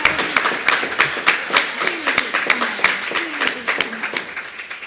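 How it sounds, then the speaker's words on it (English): Scattered audience clapping at a national diabetes audit conference, a steady patter of hand claps over about five seconds, with a voice talking over it. "just a clap to Holly"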